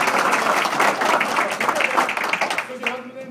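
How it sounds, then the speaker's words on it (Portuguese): Applause from an animated crowd at an in-person meeting in Guarulhos, a steady dense patter of clapping that fills the whole stretch, with voices mixed in and a voice emerging near the end. "Salva de palmas, né?"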